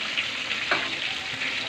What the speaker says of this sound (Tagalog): Kumukulo-kulo siya guys.